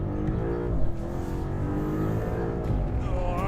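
A fast supercar in a video game accelerates hard, its engine revving with rising and falling tones across gear changes, loud and close and steady for several seconds.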